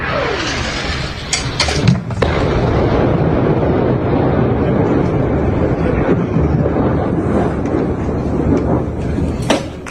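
Heavy, continuous rumbling of distant explosions from Israeli strikes in southern Lebanon fills the air with a deep roar, marked by a few sharper cracks near the start.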